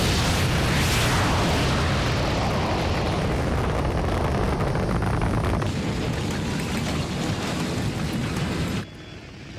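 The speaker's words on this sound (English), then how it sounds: "Separation successful, firing booster rockets." Booster rockets on a spacecraft firing in a disaster action film: a loud, continuous, roaring rumble of thrust that holds steady for about nine seconds, then cuts down sharply to a quieter hiss.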